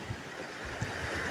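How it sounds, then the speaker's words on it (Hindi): Floodwater rushes and surges in a steady, hissing broadband roar. It is fairly faint and somewhat distant, with occasional low thumps like wind buffeting the microphone. "पहले से ज़्यादा ये पानी उछल रहा है।"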